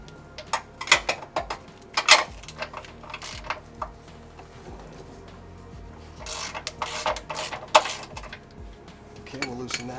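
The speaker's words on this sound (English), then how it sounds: "we're going to go ahead and remove the two bolts on the inward side" Bolts come off a Gray Industries skid plate on a Toyota 80 Series, heard as scattered metallic clinks, ratchet clicks and clattering taps, some sharp and close, over low background noise.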